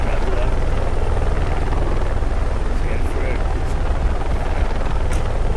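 A video game helicopter flies with a loud, continuous rotor chop throughout, a close and steady whirring thrum with radio-style speech over it.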